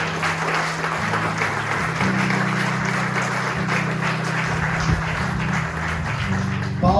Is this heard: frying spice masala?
no